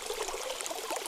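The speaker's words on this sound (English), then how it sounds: "we are going to strictly pour everything straight into the bottom of this slow cooker" Sauerkraut and its liquid pour into the bottom of a slow cooker while making hunter's stew, a short continuous splashing trickle heard up close.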